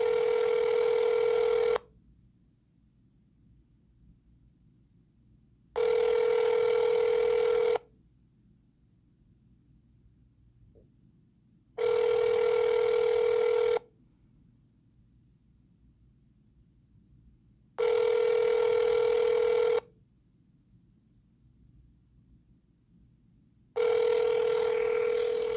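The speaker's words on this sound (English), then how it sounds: "Please hold while I transfer your call." A telephone line on hold during a call transfer plays a repeating tone, five even bursts about two seconds long separated by roughly four seconds of near silence, clear and alone.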